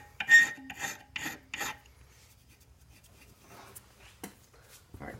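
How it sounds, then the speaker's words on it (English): A needle file rasps at a burr on metal in four quick, close strokes, followed by quieter scattered scraping and taps. "I'm going to polish these areas using the needle files."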